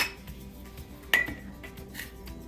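Metal spoon stirring and clinking against a saucepan of thickened white sauce made with nonfat dry milk, soft scraping with a couple of sharp clinks, close and quiet.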